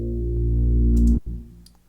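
A sustained, droning synth note swells over deep pulsing beats, then cuts off abruptly and trails away quietly.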